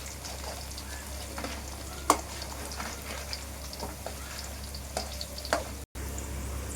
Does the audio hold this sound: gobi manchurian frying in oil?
yes